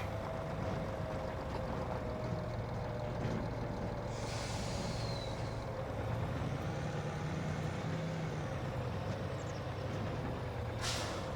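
Heavy truck driving in Farming Simulator 25, a steady low engine drone running throughout with a couple of brief hissing air-brake bursts, fairly loud and close with no voices.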